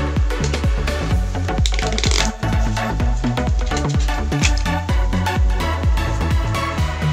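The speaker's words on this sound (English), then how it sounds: "Now shuffle the cards." A deck of playing cards being shuffled for a magic trick, a close, busy run of rapid riffling clicks and flutters that carries on steadily for several seconds with no talking.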